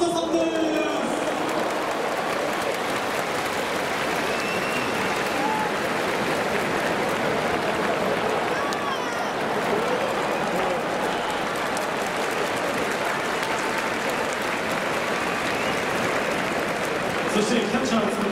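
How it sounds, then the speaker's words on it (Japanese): Stadium crowd applauding at a night baseball game before a first pitch ceremony, a steady wash of distant clapping and crowd noise lasting throughout, with a public-address voice over it. "どうぞ拍手でお迎えください。"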